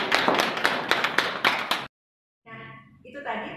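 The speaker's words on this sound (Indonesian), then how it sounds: "boleh tepuk tangan lagi dong" Audience applause at a cardiac arrest management skill test: a short burst of crowd clapping with distinct sharp claps, then a sudden silence followed by voices talking.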